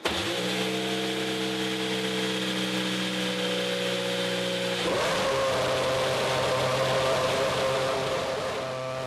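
A Williams Formula One car's engine runs at a steady high idle, then jumps sharply in pitch and volume about halfway through and holds a louder, harsher rev, close and continuous.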